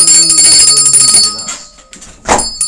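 A ringing bell sounds loud and sustained through the first half, then fades, followed by a brief clatter and a short burst of noise, during a live online classroom stream celebrating a subscription.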